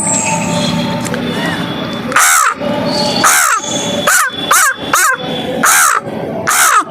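A voice imitates a crow with a string of harsh, rapid caws, growing more frequent over steady background noise.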